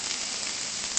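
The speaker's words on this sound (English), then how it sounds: "stir those up a bit, let the onions saute" Onions sautéing in a pan with seasonings for a wild spinach dish, giving a steady, even sizzle and crackle throughout with no talking.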